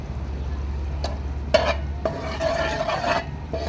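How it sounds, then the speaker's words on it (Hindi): Whole cardamom pods roast in melted sugar while a spoon stirs, giving a low, bubbling sizzle broken by a few sharp scrapes and clinks against the pan, close up and without speech. "हल्का सा इलायची को हम इसमें थोड़ा सा बिल्कुल भून लेंगे"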